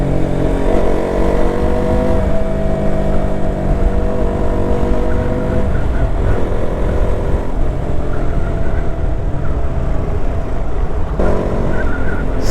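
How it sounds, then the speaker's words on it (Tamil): Old original KTM motorcycle engine roaring steadily while riding, a loud continuous low drone with slight shifts in pitch, no talk over it. "இது அந்த பழைய ஒரிஜினல் கேடிஎம் சவுண்டு."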